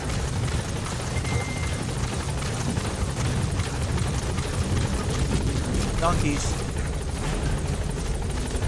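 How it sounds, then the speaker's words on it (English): The support helicopter in Metal Gear Solid V hovers with a constant, loud rotor thump and engine drone. Brief game voices and small effects sound over it. "Support helicopter has arrived."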